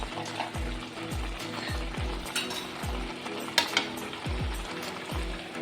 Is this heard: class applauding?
no